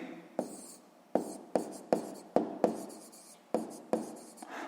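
Pen or pencil writing out a maths solution on paper, a run of short scratchy strokes with sharp starts, close and fairly quiet, no voices.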